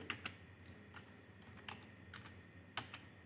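Keys on a computer keyboard clack in sparse, irregular taps, faint and close, with a few sharper strokes standing out.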